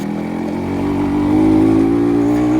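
A 1999 Yamaha RX Z two-stroke motorcycle engine revs loud and close, its steady droning note climbing slightly and holding strong throughout.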